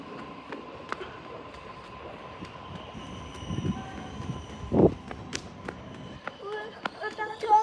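A train pulls in at a platform at Strathfield station in Sydney, a low rumbling approach with rattles and faint squeals amid station ambience, moderately distant.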